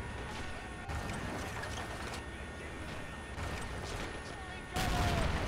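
Tank cannon fire and explosive hits land on a T-80 during a video game battle on a frozen lake. Booming, rumbling blasts come in bursts, with a loud impact near the end, all over a constant background of battle noise.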